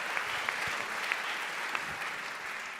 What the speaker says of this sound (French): Bravo, Francis. Voilà, on peut vous applaudir.